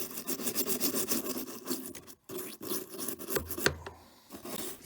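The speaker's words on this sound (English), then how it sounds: "Take your toothbrush and just give that a really good clean with hot soapy water." A toothbrush scrubs a plastic washing machine fabric softener dispenser drawer in hot soapy water, giving close, rapid rhythmic rubbing strokes with a brief pause and some clunks of handling.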